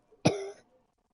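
One close, sharp cough from a person, trailing into a brief raspy, wheezy tone before fading to silence.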